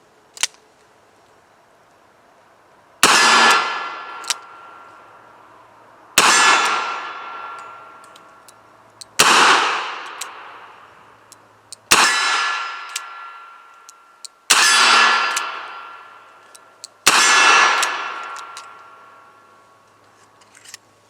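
A Smith and Wesson Governor revolver fired at a steel target: seven sharp shots, each followed by a bright ringing clang that decays over a couple of seconds, spaced roughly three seconds apart, loud with no talk.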